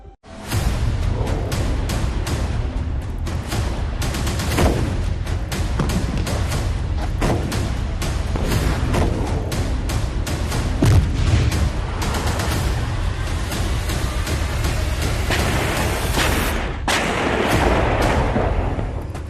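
Gunfire and shelling ring out during Russian attacks on Ukrainian cities: a dense, continuous barrage of sharp cracks and booms with no pause, loud throughout, with a heavier burst near the end.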